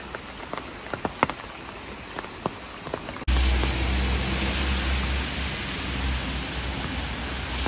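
Heavy rain pouring down in a courtyard in Odesa, at first scattered drops pattering close by, then a sudden dense, loud, steady hiss of downpour.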